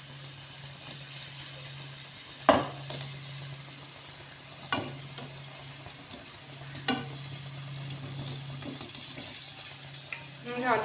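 Yogurt-based potato curry (dahi aloo) cooking in a pan, a steady, moderate sizzle and bubbling with occasional clinks of a spoon against the pan throughout.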